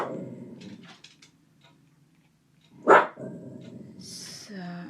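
Dogs bark at a home, a burst of loud nearby barks in the middle between softer yips and growls, with a person talking quietly before and after.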